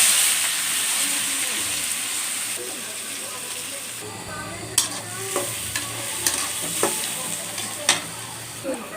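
Sliced onions hit hot oil in a pan and fry with a constant loud sizzle and hiss; sharp taps and scrapes of a spatula cut through in the second half.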